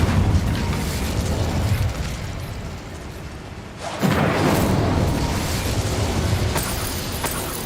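An Incendio fire spell cast in Hogwarts Legacy: a loud roaring burst with a whooshing surge of flame over a continuous rumbling game backdrop, swelling and then sustained.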